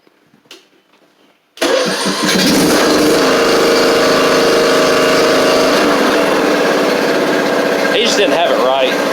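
A John Deere D100 riding lawn mower cranks and fires after a brief quiet moment, then runs loud and steady at a close, even engine drone for the rest of the time.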